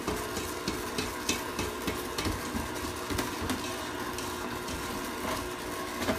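Banana bread batter with vanilla and cinnamon being mixed in a bowl: steady, close, rhythmic soft scraping and clicking strokes of the spoon, repeating evenly with no voices.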